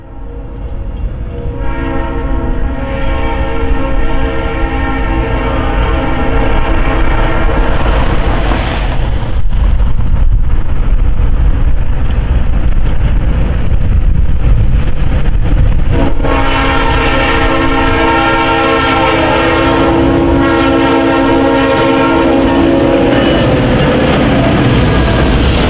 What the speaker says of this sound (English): South Shore's AF5 job was seen rounding the corner to the east.